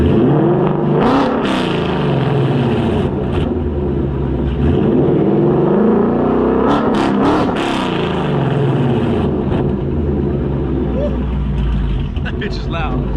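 A Ford Mustang fitted with longtubes and a Borla ATAK exhaust revs hard in repeated bursts, each rising to a roaring peak and then falling back to a rumbling idle. The exhaust is very loud and close, with voices speaking over it.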